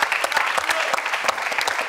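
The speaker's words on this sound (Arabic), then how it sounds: "تصفيق على خالد مولي" Studio audience of a game show clapping for a contestant, dense loud applause filling the whole brief moment, close and continuous.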